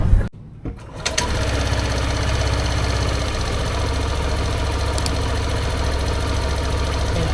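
A vehicle engine with a newly replaced air filter starts up and settles into a steady, even idle with a fast mechanical clatter that runs on without a break.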